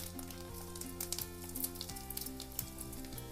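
Garlic, mustard seeds, chana dal and urad dal sizzle in hot oil for a brinjal curry tempering, a continuous crackle with scattered pops and a faint steady background hum.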